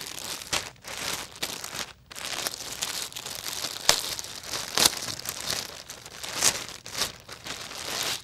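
Plastic crinkles and rustles up close in bursts and crackles as packaging is handled and pulled open, with no talking.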